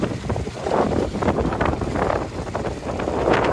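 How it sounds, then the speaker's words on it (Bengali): Strong wind blows near a village bridge over a river, a loud, steady roar of gusts buffeting the microphone for several seconds with no voices. "প্রচুর বাতাস।"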